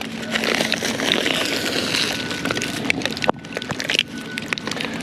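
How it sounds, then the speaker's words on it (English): Rain pattering steadily on concrete ICF blocks at a two-story basement construction site, a dense continuous hiss dotted with sharp nearby drop impacts. "that is definitely rain hitting the block"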